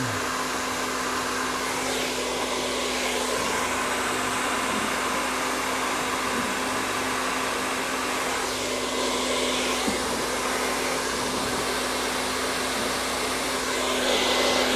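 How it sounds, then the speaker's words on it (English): Hair dryer blowing on curly hair, a loud continuous whooshing hum held steady throughout with a slight shift in tone as the airflow moves, close up and without talking. "I'm blow drying it correctly from the beginning."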